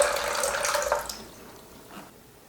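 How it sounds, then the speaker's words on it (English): Water is poured into a container on a kitchen scale while measuring out four ounces for a sourdough starter, making a splashing trickle that fades within about a second, followed by a faint drip. "We're going to put 4 ounces of water into the scale."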